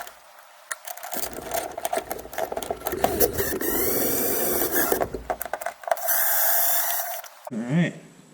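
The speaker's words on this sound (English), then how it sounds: "So I'll just get these started with the impact." Impact driver driving long screws through a USB wall outlet into a tiled wall box, heard as several loud whirring, rattling bursts of a few seconds each with short pauses between, close by and alone.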